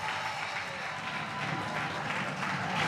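An audience applauds in a dense, continuous wash of clapping at moderate level, steady throughout the short stretch.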